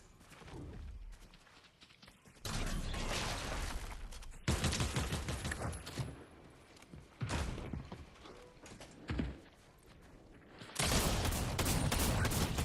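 Shotgun blasts in Fortnite Zero Build gameplay: several loud, close, broadband bursts with pauses between them, alongside clattering mechanism sounds and footsteps, with no talking.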